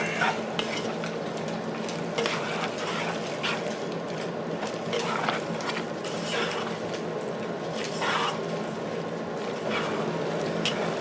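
Tuna casserole ingredients with freshly chopped dill being mixed in a bowl, a steady wet churning and scraping that continues for several seconds with soft rhythmic strokes and no talking.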